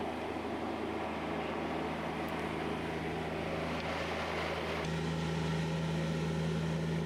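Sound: bobcat auger digging post hole through rocks

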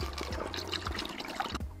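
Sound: water pouring through a funnel into a container

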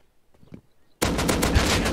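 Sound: gunfire in the video game Rust

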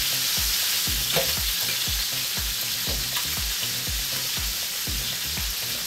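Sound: rabbit frying in a paella pan

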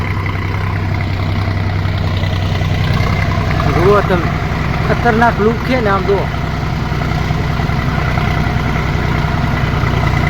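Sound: tractor engine running

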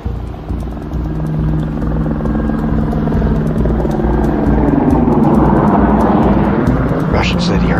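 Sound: helicopter flying

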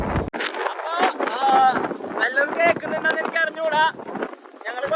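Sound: strong wind blowing

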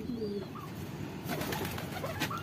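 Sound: pigeon cooing

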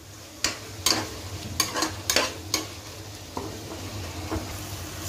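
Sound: tomatoes sautéing in oil for jackfruit biryani

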